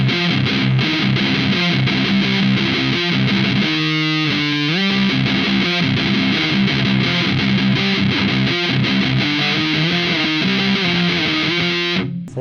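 A heavily distorted, buzzing electric guitar plays sustained chords and riffs, loud and continuous, with a brief choppy break midway.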